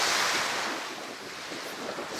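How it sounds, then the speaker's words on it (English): Waves on Lake Ontario break and wash along the shore in a broad, steady roar, heavily mixed with gusting wind buffeting the microphone, loud and close with no voices. "the waters, the waves of Lake Ontario."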